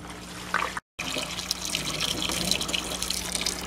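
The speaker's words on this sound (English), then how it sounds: "I've shown you how the water gets from the fish tank through the airless system into the cinder beds" Water trickles steadily from an aquaponics fish tank into cinder grow beds, a close, continuous splashing and dribbling with no voices.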